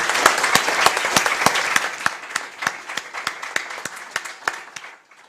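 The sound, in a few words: audience applauding the Minister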